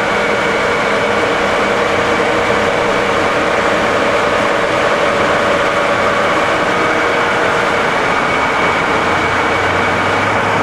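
A 1978 Cincinnati Milacron Model 550-25 VerciPower DH bed-type vertical mill with its spindle turning at about 1400 RPM gives off a steady, loud, continuous machine hum with a constant tonal whine that holds evenly throughout.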